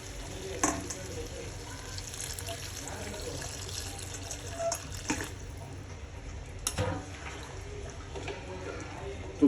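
Water goes into a pan of chicken curry as it fries, giving a faint, steady hiss and bubbling with a few soft clinks, close by and quiet.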